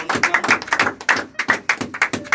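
A church congregation claps rhythmically in acclaim of Jesus, a steady pulse of loud, close claps with a faint chanting voice underneath.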